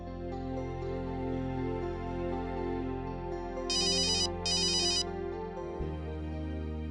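A phone ringtone plays a repeating electronic melody with steady tones, plus two short bright bursts of chiming, moderately loud and without voices.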